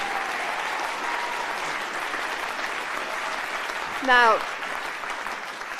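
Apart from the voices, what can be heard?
audience applauding a speaker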